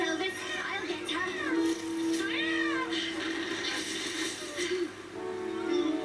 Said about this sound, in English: I wonder who did the Rosa's meowing sounds.